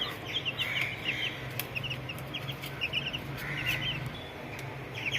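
A small chick clucks and cheeps in quick scattered bursts while pecking at another bird's eye, with faint clucking from other fowl around it, close but quiet.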